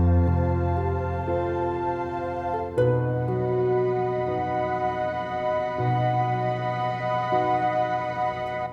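Sampled orchestral strings play glassy harmonics in soft sustained chords, shifting between stacked pitches every few seconds at a steady, quiet level with no talking.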